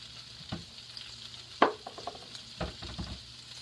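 Shrimp and broccoli are stirred in a sizzling pan, with a soft frying hiss broken by a few scraping clacks of the utensil, close and fairly quiet.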